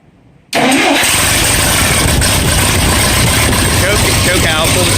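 Antique farm tractor engine cranking and catching after a rewiring job, roaring straight into a loud, steady running rumble that holds for several seconds, with a voice speaking over it.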